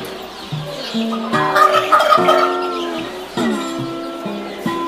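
A loud rooster crows repeatedly in drawn-out, raspy calls close by, with other fowl clucking around it.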